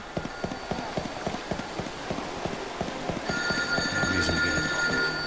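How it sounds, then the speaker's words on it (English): In Final Fantasy XIII Lightning Returns, a telephone starts ringing with a bright, repeating electronic trill over a steady clip-clop of hooves from a chocobo, the ring entering partway through and staying up front. "I'm gonna leave that phone ringing for now."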